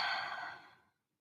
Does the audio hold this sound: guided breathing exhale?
yes